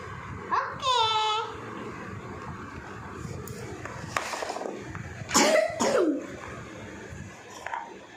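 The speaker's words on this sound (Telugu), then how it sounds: "బాగా దగ్గుతున్నారు?" A young girl with a cold coughs a few times, harsh and close, between brief stretches of babbling and quieter background talk.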